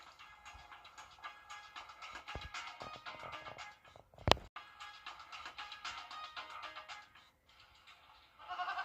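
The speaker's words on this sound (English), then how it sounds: "What's with all the goats?" A dense chorus of goats bleating continuously, many animals at once, moderately distant, with a sharp knock partway through. Heard during a local TV news broadcast.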